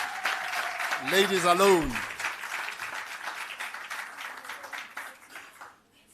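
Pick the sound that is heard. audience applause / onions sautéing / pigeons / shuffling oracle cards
audience applause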